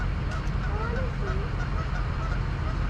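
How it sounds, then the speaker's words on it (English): A baby goose honks outdoors in a parking area, giving a few short faint calls over a steady roar of background noise. "Oh, there's a little baby goose."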